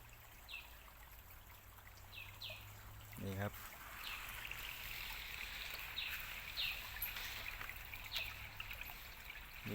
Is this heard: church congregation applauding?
no